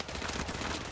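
Rapid gunfire in the video game Modern Warfare Remastered, during the campaign prologue mission Crew Expendable: a dense, continuous burst of loud shots filling the whole moment, with no talking over it.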